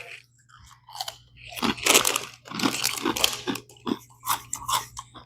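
Original unflavored Button Jeffs pork cracklings from Tyrone, Georgia are crunched and chewed near the microphone in a run of loud, irregular bites and crackly chews with brief pauses between.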